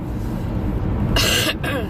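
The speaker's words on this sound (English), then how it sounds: "My throat gets dry and it tickles, and then I cough" A single harsh cough bursts out partway through, preceded by a low steady background hum.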